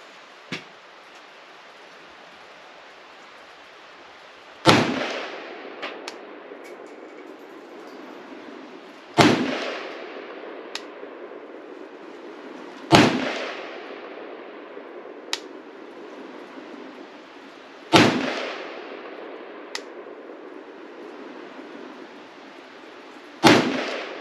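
A Palmetto GF5 AK rifle fires Barnaul ammunition outdoors, five loud single shots spaced several seconds apart, each with a sharp crack and a trailing echo, with faint metallic clicks between them.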